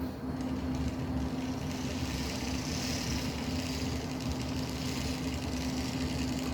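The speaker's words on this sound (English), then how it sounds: "It's definitely a grumbly little engine." A Bachmann N scale Bicentennial model train engine runs with a steady low grumbling motor hum and a constant mid-pitched whine, continuous and close, without speech.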